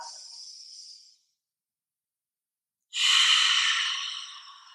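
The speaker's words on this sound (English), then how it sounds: "So we're making that breath really audible today, bringing in that fire." Audible yoga breathing during a strength and power session: a steady breathy exhale, a pause of silence, then a longer, louder rushing breath, close and alone with no talking.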